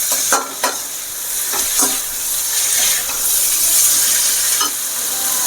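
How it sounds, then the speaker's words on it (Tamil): Parboiled cluster beans sautéed in a pan, a loud close hiss and sizzle running throughout, with a few quick spatula scrapes early on and another near the end, no voices. "நல்லா வதக்கிக்கணும்"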